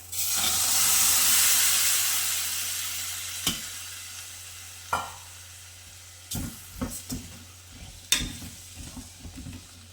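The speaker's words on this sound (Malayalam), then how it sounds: "ഈ കടല നമുക്കിതിലേക്ക് ഒഴിച്ചു കൊടുക്കാം" Leftover chickpea curry is poured into a hot pan and hisses loudly at first, then settles to a quieter simmer broken by several sharp clinks and scrapes of a spoon against the pan.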